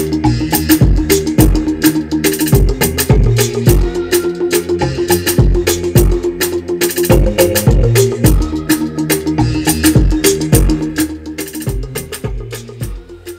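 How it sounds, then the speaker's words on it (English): A warm synth pad sits inside a loud Afrobeats-style beat made for a track, with punchy kicks and drums hitting steadily over it, continuous throughout. "And with the pad, it sounds like this."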